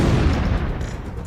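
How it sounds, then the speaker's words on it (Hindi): Russian artillery guns firing shells, heard as a dense, loud rumbling roar of gunfire throughout a short burst, with no talking. "इसके साथ ही रूसी सेना तोपों से फटाफट गोले दाग रही है।"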